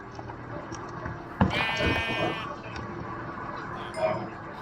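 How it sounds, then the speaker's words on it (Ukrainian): A sheep bleats once in a block-building video game, a short wavering cry partway through over a low steady background hum, with a faint click near the end. "Я подумав, що це рожева вівця."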